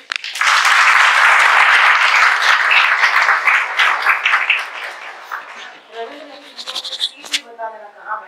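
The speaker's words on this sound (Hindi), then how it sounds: "तो ताली बजाओ भाई" Students in a classroom clap loudly for a civil engineering topper: dense, steady clapping for about five seconds that then thins out as voices start talking.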